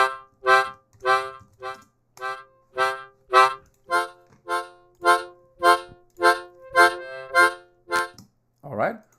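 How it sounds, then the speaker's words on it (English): Harmonica playing a series of short, evenly spaced breathy notes and chords in a steady pulsing rhythm, close and fairly quiet, closing with a brief wavering note, no talking. "So I like to play the harmonica every once in a while"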